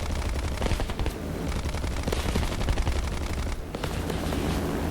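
Aircraft guns firing in War Thunder aboard a Halifax B Mk IIIa bomber, with dense continuous rattling bursts over a loud engine drone, nearly unbroken except for a brief dip.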